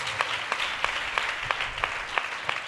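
A church congregation claps loudly in steady, repeated bursts, the sharp hand claps evenly spaced and filling the hall with no voices over them.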